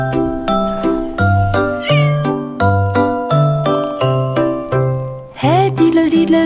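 A cartoonish cat meows again and again in a children's lullaby song, with bright tinkling melodic notes underneath; the meows come in a steady rhythmic pattern, loud and clear, ending in a flurry of higher, livelier mewing.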